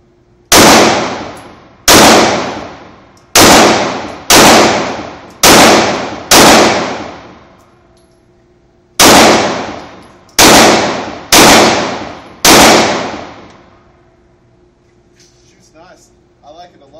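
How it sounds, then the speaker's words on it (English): An H&K P30 9mm pistol fires nine loud shots outdoors, each sharp crack trailing off in a short echo, first in a quick run of six and then, after a pause, three more. "H&K P30 9mm. Feels good. Let's see how it shoots."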